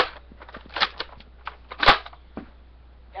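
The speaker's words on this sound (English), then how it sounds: "Yeah, I just reloaded that with my knee." A Nerf Longstrike bolt-action pistol is reloaded with a few sharp plastic clacks and rattles up close, one louder snap standing out among the softer handling clicks.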